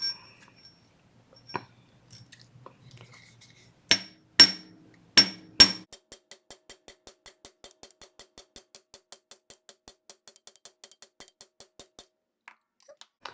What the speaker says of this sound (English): when you start hammering this end